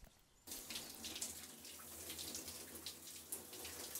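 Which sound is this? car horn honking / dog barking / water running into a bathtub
water running into a bathtub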